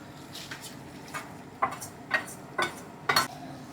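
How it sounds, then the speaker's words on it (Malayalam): Several scraping metallic clinks of a spoon against a pot as tempered mustard seeds are stirred into a bone curry, irregular and close, over a quiet background hum. "ആ കടുക് വറുത്ത് വെച്ചത് അങ്ങ് ഇളക്കി ചേർക്കുവാണ്"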